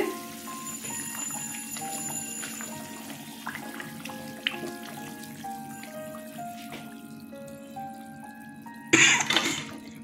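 Pieces of katla fish drop into a boiling curry with green chillies, which bubbles and simmers steadily before a sudden loud splash and sizzle near the end.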